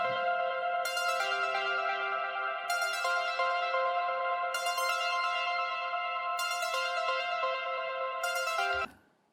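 A bright synthesizer arpeggio from the Diva synth cycles steadily, its plucked notes washed in heavy reverb and echoing delay, before cutting off abruptly at the end.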